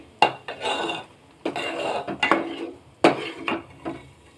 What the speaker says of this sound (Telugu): ఇలా స్టిర్ చేస్తే మలై అనేది, నెయ్యి అనేది తయారైపోతుందండి.